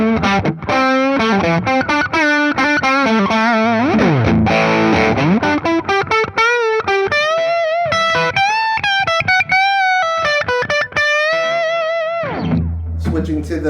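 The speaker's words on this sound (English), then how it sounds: "I'm going to add a little bit of the echo to this just for fun." Electric guitar played through a Mass Street Custom Paul Cochrane Timmy transparent gain pedal, mildly overdriven with an added echo, rings out in a loud, continuous melodic passage of sustained and sliding notes with repeats trailing behind, and no talking.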